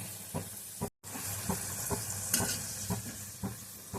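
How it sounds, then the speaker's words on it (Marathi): Sambar vadi frying in oil on a low flame, a steady close sizzle broken by regular soft stirring or turning taps, with one brief dropout near the start. "दोन्ही साईडने छान गोल्डन होईपर्यंत आपल्याला तळून घ्यायची आहे गॅसची फ्लेम कमीच ठेवायची आहे"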